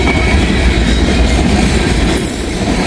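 Freight cars, some loaded with railroad ties, rumble past nearby in a loud steady roll of wheels and clatter, with a thin wheel squeal rising near the end.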